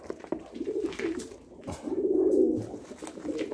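Janssen racing pigeons of the Huben and Faber lines give low, throaty coos up close, several rolling calls in a row with a short lull midway before the cooing swells again.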